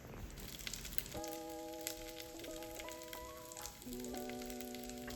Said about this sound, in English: Carefully add the tofu pieces, keeping some space between them. If needed, fry in 2 batches.